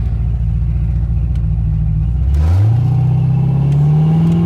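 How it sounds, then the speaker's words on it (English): A Ford Fox Body Mustang with a built AOD automatic transmission accelerates at partial throttle, its loud close engine drone climbing in pitch, dropping briefly at a shift and then rising steadily again. "Go about 3/8 throttle again."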